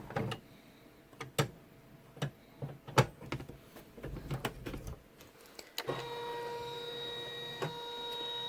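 An embroidery machine securing lining fabric on an in-the-hoop scallop pouch gives scattered clicks and ticks as the hoop is handled, then settles into a steady whirring hum of stitching, close and quiet, without speech.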